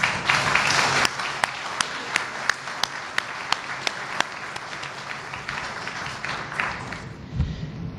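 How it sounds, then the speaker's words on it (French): A crowd applauds steadily at an anti-corruption speech, a dense wash of clapping with a few louder individual claps standing out, tapering toward the end. "les manifester par des applaudissements"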